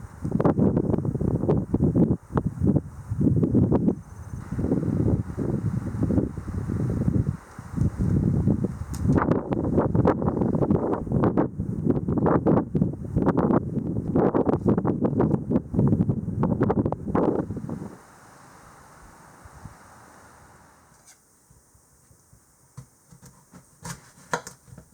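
Strong wind on a cold, windy day buffets the microphone in heavy gusting rumbles for most of the stretch, then drops away to a faint, quieter breeze near the end.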